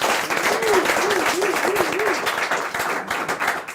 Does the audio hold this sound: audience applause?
yes